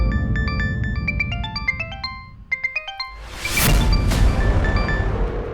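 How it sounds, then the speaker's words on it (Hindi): A mobile phone ringtone plays a loud, bright, repeating melody of electronic tones with a short pause, then gives way to a dramatic whooshing crash effect typical of a TV drama. "प्लीज फोन उठा लो प्लीज।"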